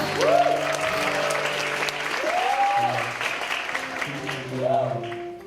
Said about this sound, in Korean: 박수 한번 치고 들어갈게요.